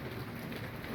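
Steady rain pours down during a thunderstorm with hail on a chilly evening, a dense continuous hiss of drops on surfaces throughout, fairly close and even in level.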